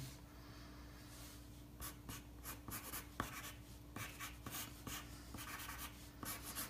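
A blue pencil scratches and sketches on paper in short repeated strokes, close and quiet, with no voices.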